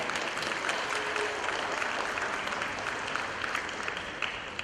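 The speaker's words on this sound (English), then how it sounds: "let's give these girl ballers a round of applause" Audience applause at a middle school 7th grade award ceremony for girl basketball players, a steady wash of many hands clapping, moderately distant and even throughout.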